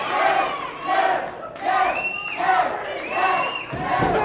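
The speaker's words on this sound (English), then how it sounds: "The crowd trying to rally behind Team Bull, trying to help motivate the Bronze Bull" A wrestling crowd at an independent show chants and shouts in rising, rhythmic bursts to rally behind Team Bull, loud and close with repeated cheering swells.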